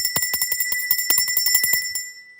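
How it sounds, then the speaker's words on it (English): A bell rung to stop a game, a fast close series of bright metallic strikes over a steady high ring, about two seconds long and then cut off. "Here's the bell."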